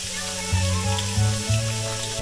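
Food frying in a pan at a campsite on Île de Ré gives a steady sizzle, swelling in a few louder bursts with a low hum beneath it. No one speaks.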